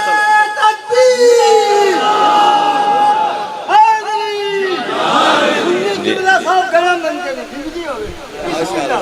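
A large crowd at a religious gathering loudly chants slogans in unison, with shouted call-and-response bursts and rising cries close to the listener.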